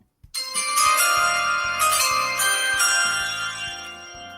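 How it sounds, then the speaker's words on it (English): After a brief pause, a bright bell-like ding-dong chime rings out, the NFL Draft announcement tone. Its layered tones sustain and shift in pitch over several seconds, loud and clear, with no talk over it. "NFL draft ding dong"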